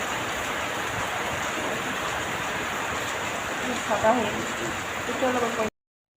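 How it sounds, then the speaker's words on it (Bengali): Heavy rain pours down steadily as a constant broadband hiss, close and fairly loud for the whole stretch, with a few faint, brief sounds from a person near the end before it cuts off. "দেখো বন্ধুরা কী পরিমাণ বৃষ্টি হয়েছে"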